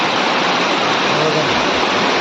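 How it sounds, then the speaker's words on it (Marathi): Heavy rain pouring down in a Konkan village in mid-May, a dense, loud, steady roar that fills the whole moment, with a brief spoken word over it. "मोठाच पाऊस पडला"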